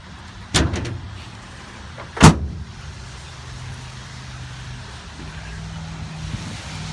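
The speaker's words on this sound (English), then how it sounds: "The spring-loaded down tailgate." The spring-loaded tailgate of a 2016 Chevrolet Silverado 1500 LT pickup drops open with two sharp thuds, a smaller one then a heavier clunk, leaving a faint low hum and quiet outdoor air.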